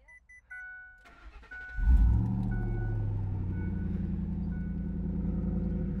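A Ford F150 pickup with the 4.6 Triton V8 and Roush side-exit exhaust cranks and fires, revving up then settling into a loud, deep, steady idle, preceded by key jingles and a brief warning chime.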